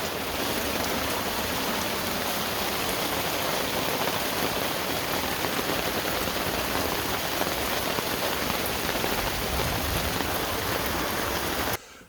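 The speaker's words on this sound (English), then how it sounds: "We got just a massive downpour here." Heavy downpour drumming steadily on the roof of a cargo trailer being converted into a camper, a loud, dense, continuous hiss of rain that stops abruptly at the end.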